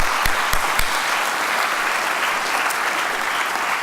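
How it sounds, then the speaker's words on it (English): Loud, dense audience applause at a Black History celebration event, a continuous wash of clapping with a few sharper claps near the start. "Let's give her a round of applause for her help and support."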